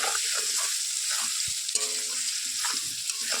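Paneer frying in a pan with a little salt and turmeric for a homemade Bengali-style dish: a steady, close sizzle of hot oil throughout, broken by a few soft stirring knocks and scrapes, with no talking.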